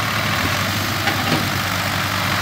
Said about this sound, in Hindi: ट्रैक्टर स्लिप मार मार के चल रहे हैं।